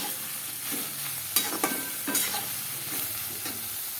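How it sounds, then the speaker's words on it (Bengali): Soybean chunks frying in a pan for a vegetarian soybean dalna, a steady crackling sizzle broken by several scraping strokes of a spatula, near and moderate in level. "সোয়াবিনটা মোটামুটি ভাজা ভাজা হয়ে গেছে।"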